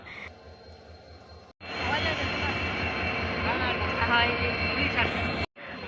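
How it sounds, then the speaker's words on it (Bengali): A train pulls into a crowded station, a loud broad roar rising abruptly and holding steady for several seconds amid the general hubbub, with voices nearby. "ফাইনালি আমাদের ট্রেন এসে পৌঁছে গেছে"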